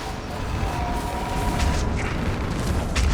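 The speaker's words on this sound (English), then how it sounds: "On that building, we've got fire support." Artillery explosions from fire support boom in Mass Effect 3, a dense rumbling barrage with heavy low thuds under a constant wash of battle noise that stays loud and steady.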